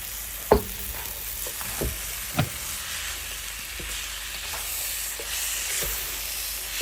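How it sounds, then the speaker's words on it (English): Egg noodles stir-fried in a hot pan give a continuous close sizzle and hiss, broken by a few sharp utensil knocks against the pan. "This is the quick stir fry noodle."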